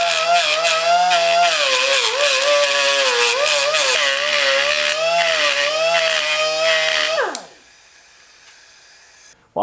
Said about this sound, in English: While I have the die grinder out, I'm going to quickly touch this oil pad area.